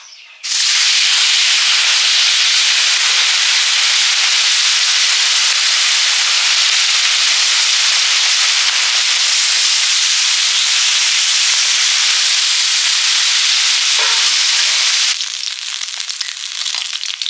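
Loud, continuous sizzling and spitting of small river fish frying in hot oil, steady for most of the clip before easing slightly at the end.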